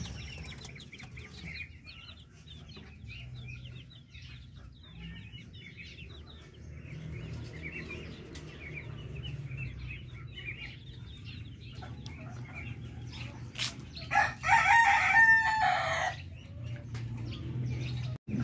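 Darag native chickens in a cage on a chicken farm cluck steadily at moderate distance, and one bird crows loudly near the end.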